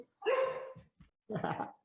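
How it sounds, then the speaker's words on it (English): A dog barks nearby in two loud bursts, the first a drawn-out bark followed by short yips, then a second rough bark, with no speech over it. "Who's that? It's Eddie's dog"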